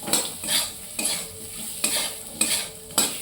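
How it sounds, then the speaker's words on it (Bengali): A spatula scrapes and stirs fish curry in a pan over low heat, five or six rhythmic strokes, each with a sharp scrape followed by a soft sizzle, close and clear with no talk. "খুন্তি করে একবারে মাখিয়ে নেওয়া হচ্ছে, খুন্তি করে বেশ ভালো হবে আর কি, যাতে না কড়াই লেগে যায়"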